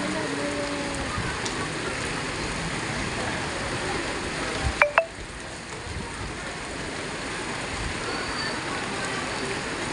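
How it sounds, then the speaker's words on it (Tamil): Heavy rain pours in a dense, constant hiss, with a brief clatter partway through and no talking; a thunderstorm with lightning. "சலவென்று மழை பொழிகிறது."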